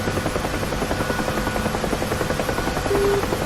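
A UH-1 helicopter in the DCS flight simulator game drones with a steady, loud rotor chop and engine buzz throughout, with no talking over it.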